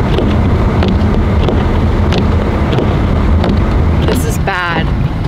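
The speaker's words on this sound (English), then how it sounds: "the wind gusts blow the snow like right now" Strong wind gusts roar continuously against the microphone while blowing snow, a loud, dense rushing noise filling the whole clip, with a brief sharp tonal sound near the end.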